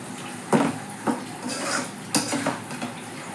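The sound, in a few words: stirring potatoes into spice masala in a pot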